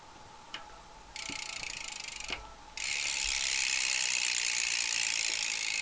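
A fast, buzzing ratchet click from a freewheeling BMX cassette hub on a We the People Envy bike, starting in short bursts then running continuously and loud, with a few sharp knocks.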